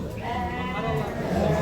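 A young ewe lamb at a livestock judging contest in Issyk-Kul region bleats near the microphone. A continuous, slightly wavering voiced call runs throughout and grows a little stronger toward the end, with crowd noise underneath.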